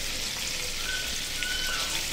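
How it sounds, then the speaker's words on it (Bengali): Shrimp frying lightly in shallow oil, a steady dense crackle and sizzle that holds even and continuous throughout, close and fairly quiet with no voices. "এদিকে আমি চিংড়িগুলো হালকা তেলে ভেজে নিচ্ছি"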